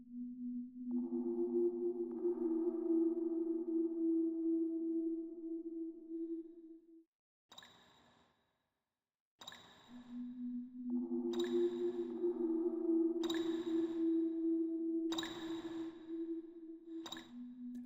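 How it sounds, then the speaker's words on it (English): Sewer ambience from the PlayStation horror game Hellnight, with low sustained eerie tones and faint echoing drips, broken by a near-silent gap and sharp pinging accents, all quiet and isolated. "A simple sewer is transformed into a highly creepy, isolated setting with the use of faint echoes, running water and eerie music."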